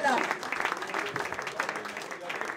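A crowd applauds at a prize-giving ceremony for a golf event, steady clapping filling the whole stretch at moderate loudness with a busy, continuous texture.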